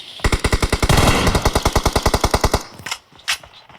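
Rapid automatic gunfire from a favorite weapon in the video game PUBG, a loud, close burst of about twenty evenly spaced shots over two seconds, then a short tail and one distant thud.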